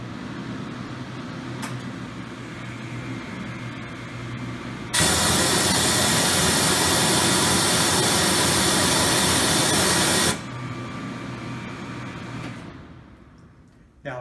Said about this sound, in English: the black button over here starts the compressor